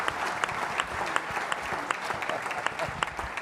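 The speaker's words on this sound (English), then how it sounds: "they deserve a big round of applause as well" A capacity studio crowd at a live TV show breaks into sustained, dense applause, a steady wash of many hands clapping close by with a few sharper claps standing out.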